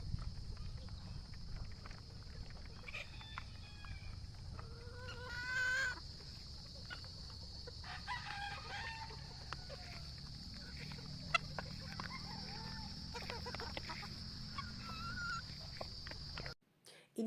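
Chickens at a gamefowl farm cluck and call around a feeding lot outdoors, with several bird calls over a steady background hum and a brief rooster-like cry midway.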